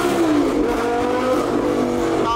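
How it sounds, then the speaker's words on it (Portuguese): A Lamborghini V10 engine revs hard and steadily, a loud sustained roar with rising pitch filling the whole stretch, up close with no talking over it. "vamos dar uma aceleradinha aqui"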